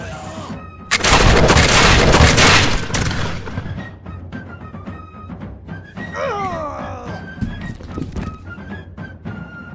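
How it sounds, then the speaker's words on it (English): Hessian Jägers fire a musket volley at American militia: a loud, dense burst of overlapping gunshots lasting a couple of seconds, followed by scattered thuds and fainter reports. "the unit of Hessian Jägers opened fire on American"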